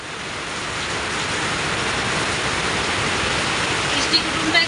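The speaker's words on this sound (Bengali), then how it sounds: "দেখো বলতে না ফোনটাও রাখলাম আর বৃষ্টিটাও শুরু।" Heavy rain beginning to pour, a dense rushing hiss that swells slightly and holds steady, close and loud, with a couple of brief knocks near the end.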